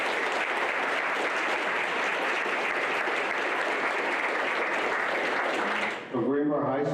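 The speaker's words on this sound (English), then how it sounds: "Let's give them a big round of applause." A school board meeting audience gives a big round of applause, a loud, dense, continuous clatter of many hands that cuts off near the end as a voice begins speaking.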